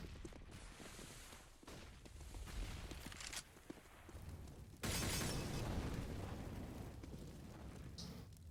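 A Molotov fire in a Counter-Strike championship match bursts with a loud whoosh midway and then roars on as a sustained crackling blaze, after scattered smaller pops and impacts.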